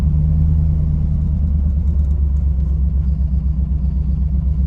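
An old pickup truck's engine idles and runs roughly with a loud, steady low rumble and slight pulsing, close and continuous with no talking.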